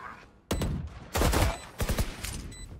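Shotgun blasts in the video game Valorant, three or four loud, sharp booms separated by short gaps, each one ringing out briefly, with no talking.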